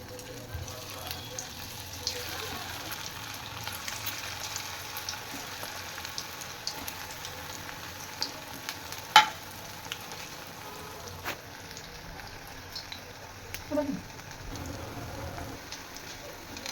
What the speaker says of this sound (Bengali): পটেটো ফিঙ্গারগুলো ভেজে নেবো, তেলে দিয়ে দিচ্ছি।